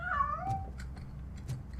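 A cat meows in Robocop: Rogue City, one short rising-and-falling call up close, followed by soft background game ambience and faint clicks.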